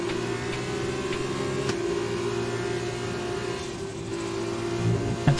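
A race car engine in the F2 video game at Bahrain holds a steady, buzzing drone with layered harmonics, continuous and fairly loud, with no break across the few seconds.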